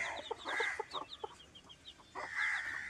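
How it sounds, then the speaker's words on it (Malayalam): Several native country chickens cluck close by, bursts of short rhythmic clucks rising and falling with brief pauses between them. "ഇവിടെ നാടൻ കോഴിൽ ഒരു മൂന്നാല് പേര് മാത്രമാണ് പുറത്തിറങ്ങണത്"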